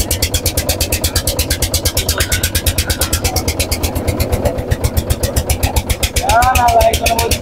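A boat engine chugs steadily and close by as the boat crosses flood water over submerged land, with a pulsing rhythmic throb throughout and a brief rising whine near the end.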